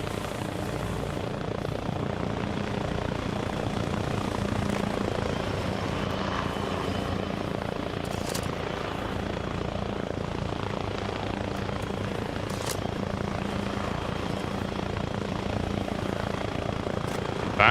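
A helicopter in a video game holds a constant, moderately loud rotor and engine drone that does not change, with no speech.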